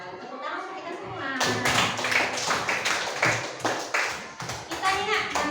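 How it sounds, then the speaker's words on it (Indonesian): Classroom applause from an elementary class, a burst of rhythmic group clapping that starts abruptly and keeps a steady patterned beat, with children's voices mixed in. "Tepuk tangan untuk kita semua."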